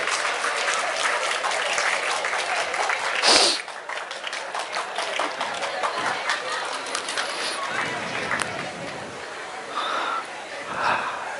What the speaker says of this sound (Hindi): अच्छा, आप ताली बजाओगे?